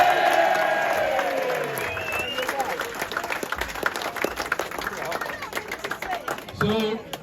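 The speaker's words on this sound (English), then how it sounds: "And what about a round of applause for your Rotherham Titans?" A rugby crowd at the Rotherham Titans clubhouse applauds and cheers the Titans after their win over Fylde. The clapping is loud at first and thins out over several seconds, with chatter and a voice over it.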